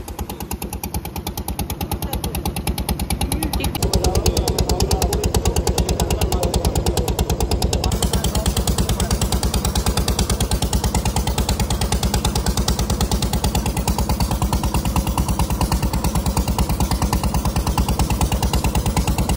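A boat engine chugs steadily and loudly on a river trip near Lalganj, its rapid mechanical pulse running unbroken and close throughout, with no talk over it.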